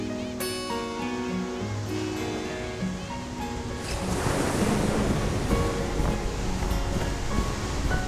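Pacific Ocean surf swells and washes in midway on a young volcanic coast, rising into a broad roar of breaking waves over wind, following a stretch of music-like tones.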